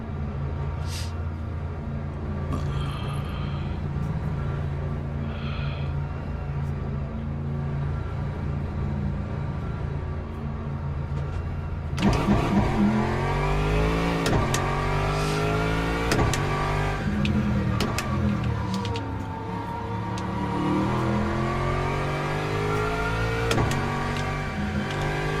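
An Aston Martin GT3 race car in a racing video game, its engine droning steadily and then rising into a loud, sweeping rev with rapid gear changes as it accelerates, with no voices over it.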